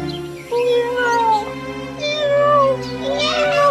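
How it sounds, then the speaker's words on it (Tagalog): A kitten crying and meowing in a cave, with rising and falling mewing calls repeating over a soft background, fairly near and clear. "Ay, boses ng kuting yun ah."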